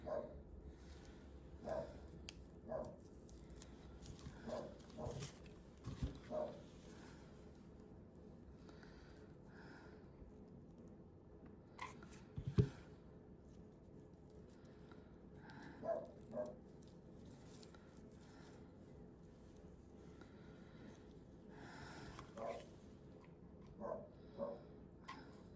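A dog named Oscar barks in scattered faint bursts at a distance over a windy outdoor background, with irregular gaps between the yips.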